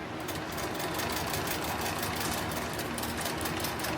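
A sewing machine stitches straight down a line on the heavy fabric of a tactical plate carrier, running as a steady, continuous mechanical hum with no pauses, close and fairly loud throughout.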